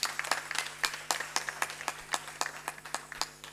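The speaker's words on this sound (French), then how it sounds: "on peut l'applaudir s'il vous plaît" Sparse, uneven hand clapping from a few people, sharp individual claps at a moderate pace against a faint steady hum.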